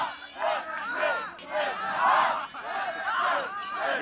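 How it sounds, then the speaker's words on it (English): Crowd roaring and cheering at a 1987 Washington DeMolay conclave, a loud swelling wall of many voices in repeated rising surges, with shouts standing out. "The crowd is roaring"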